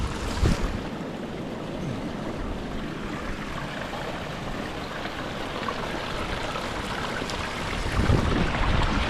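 Water runs through a gold-prospecting sluice with a hopper and large riffles at a river outdoors, a steady broad rushing wash with gusts of wind noise and no speech.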